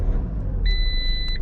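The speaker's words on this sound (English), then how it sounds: "you can see the car starts." A 2017 Peugeot Boxer van, fitted with an immobiliser security system, starts up, its engine giving a low steady rumble while a thin electronic beep tone sounds over it.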